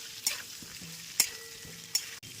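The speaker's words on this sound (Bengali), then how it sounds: "এইবারে আলুগুলো দিয়ে দিলাম, একটু ভাজা ভাজা করে নেব" Boiled potatoes hitting hot oil with curry leaves and asafoetida, a quiet sizzle broken by three sharp utensil clacks and scrapes at a steady interval, close and fairly soft, no voices.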